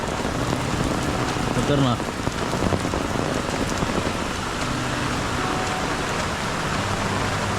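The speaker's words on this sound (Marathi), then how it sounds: "पाऊस काय आता जोरदार परत एकदा सर आले" Heavy monsoon rain pours onto a road beside the swollen Kajali river at Sakharpa in the Konkan, a dense, continuous roar of rain on the surface with someone speaking briefly over it.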